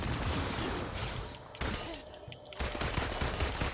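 Dense, rapid gunfire bursts from the Marvel's Avengers video game, loud and close, with a brief lull midway before the shooting resumes.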